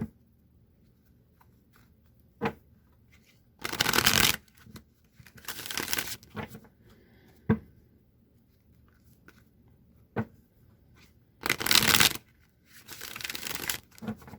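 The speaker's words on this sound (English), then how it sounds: "Let me just give these a few shuffles." Tarot cards are shuffled in several quick riffling bursts, separated by pauses with light taps and handling noises, close up and fairly loud.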